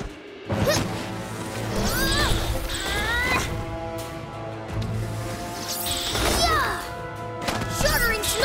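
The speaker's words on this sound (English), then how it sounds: "Shattering snowflakes." Cartoon ice-attack sound effects from a PJ Masks kids' episode: several sharp shattering cracks and whooshes punctuate a busy mix, with characters talking throughout.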